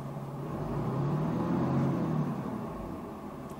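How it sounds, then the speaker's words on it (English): A Cummins diesel engine in a new Ram 3500 pickup truck runs just after starting, a steady low rumble with a slight swell in the middle, close by and heard alone. "Hear that Cummins roar to life."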